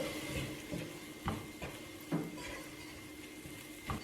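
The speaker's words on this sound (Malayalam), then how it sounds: "നന്നായിട്ട് ഇളക്കി കൊടുക്കുക." Masala and eggs are stirred in a pan while cooking egg biryani, giving soft, intermittent spoon scrapes and clinks against the pan over a faint steady hiss, close and quiet.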